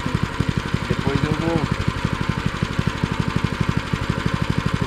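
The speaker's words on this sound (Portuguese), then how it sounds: "E o tratorito não dá muita diferença de um trator grande, né, ó, o serviço?" Small tractor engine running steadily in a field while limestone is worked into the soil, a rapid even chugging pulse throughout with a brief voice cutting in partway.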